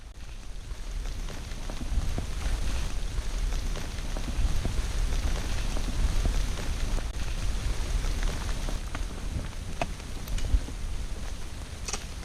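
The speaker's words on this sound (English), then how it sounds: "Rain." Steady rain patters on the ground and foliage along the Appalachian Trail between Pen Mar, Pennsylvania and Harpers Ferry, West Virginia, a continuous close wash of drops with occasional louder drips and no voices.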